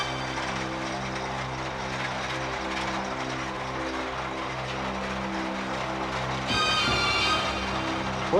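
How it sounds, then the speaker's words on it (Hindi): A helicopter rotor blade runs on a test rig, producing a steady droning mechanical hum with tonal whine, shifting to a brighter, louder whir near the end; no speech. "सर, मैंने हेलीकॉप्टर के रोटर ब्लेड की सीरिंग अंडर टेस्टिंग रख दी है।"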